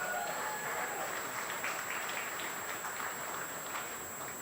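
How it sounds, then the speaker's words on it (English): An audience at the opening ceremony of an over-60s cricket world cup claps steadily, a thick, rain-like patter of many hands, sustained and fairly close, with a faint steady tone running underneath. "a big round of applause to all of you"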